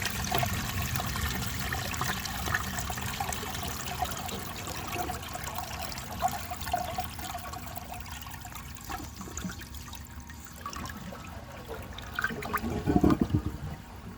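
A 1974 Borg Warner toilet flushes in one long continuous rush of water, swirling and gurgling for about fourteen seconds, with a brief louder surge near the end and no talking.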